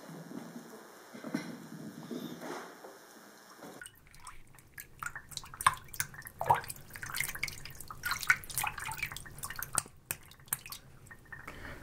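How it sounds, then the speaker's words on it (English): Water laps and drips around a rowboat as a young boy pulls the oars, with irregular close splashes and gurgles after a quieter opening stretch. "A young boy in a rowboat dips his oars deep into water, pulls them back with all his might, squeaking oarlocks and lapping water"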